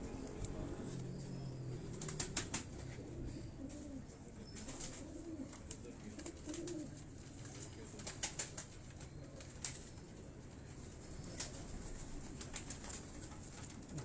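Pigeons of a mixed-breed flock on a Lahore rooftop make bursts of wing flapping, several short clattering flurries scattered over a low background with soft cooing, fairly faint and distant.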